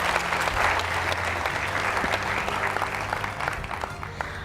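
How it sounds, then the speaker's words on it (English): An audience at a university quiz competition applauds, a dense, sustained wash of clapping that stays loud before thinning slightly toward the end, with no talk over it. "Can we give them a round of applause, please?"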